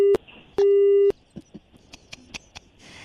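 Phone call disconnected tone: two clear steady beeps, a short one and then a longer one, followed by faint clicks and handling noises.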